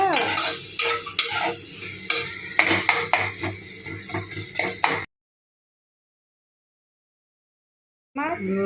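Potatoes fry in a pan with tomatoes while a utensil stirs and scrapes them, loud rhythmic clatter over a sizzling hiss, then a stretch of dead silence before the stirring returns briefly.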